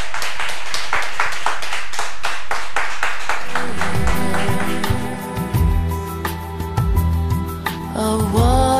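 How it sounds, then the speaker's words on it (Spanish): An audience claps loudly in a live setting, welcoming a female performer with a dense burst of applause that thins out as music begins underneath. "Bienvenida y esos aplausos muy fuertes para ella."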